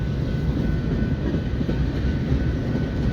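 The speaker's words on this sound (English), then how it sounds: "Right now this train is heading north on the Sioux City Sub." A freight train heading north on the Sioux City Sub gives a steady, loud, close rumble of rolling wagons with faint clickety-clack, with no voices.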